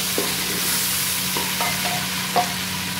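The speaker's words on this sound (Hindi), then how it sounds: "इसी ऑयल में मैं ऐड करूँगी टमाटो, जो मैंने मोटे मोटे कट किए थे। इसको फ्राई करेंगे हम लोग।" Thick-cut tomatoes fry in hot oil for chicken karahi, a steady loud sizzle with a few stirring clinks and scrapes of the spoon, close up and without talking.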